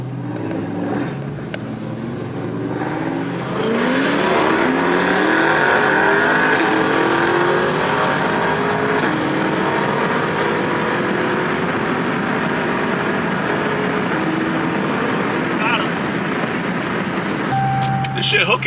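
C8 Corvette and Dodge Challenger pulling hard from a rolling start in a drag roll race, a loud sustained engine roar climbing in pitch for most of the run, with people talking over it.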